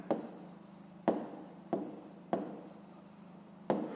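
Handwriting a fifth-grade math exercise solution on paper: a steady scratchy pen stroke sound with five sharp taps at irregular intervals, close and alone with no talking.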